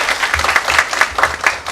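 An audience applauding to welcome a lecturer at a dental insurance talk, a lively patter of many hands clapping in uneven pulses, close and fairly loud.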